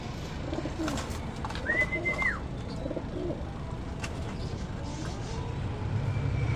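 Racing pigeons cooing at a loft during a race, soft low coos and a few brief calls over steady outdoor background hum, fairly faint and mid-distance.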